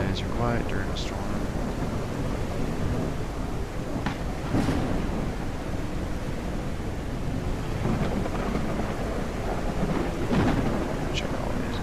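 A thunderstorm with heavy rain pours steadily throughout, broken by several low rumbles and cracks of thunder rising out of the dense, wash-like noise.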